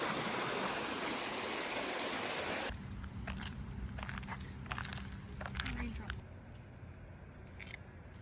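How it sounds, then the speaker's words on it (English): A babbling brook flows beside a bridge in Alaska, a steady loud wash of water that drops slightly in level partway through, with footsteps and small clicks over it and no talk. "The sound of a babbling brook."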